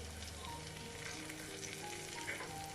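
Curry leaves fry in hot oil for mutton kulambu, giving off a steady, faint sizzle with soft crackles throughout.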